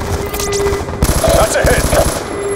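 Automatic gunfire in the video game Call of Duty Black Ops II, rapid bursts of shots rattling over steady background game sounds and beeping alerts, loud and close.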